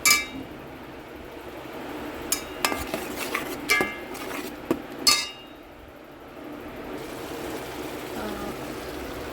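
A spoon scrapes and clinks in a frying pan while tomato-onion paste is stirred, several sharp metallic knocks in the first half, then a low steady sizzle-like hiss.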